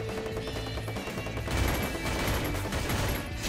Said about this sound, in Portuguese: Gente que tá me atirando, não vi